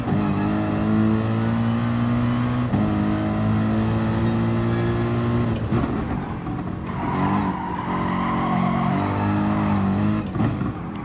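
Race car engine at the Nurburgring GP circuit, a steady loud high-pitched drone that climbs through the revs as the car powers out of a corner, with short shift dips and tire scrub, close and continuous with no talking.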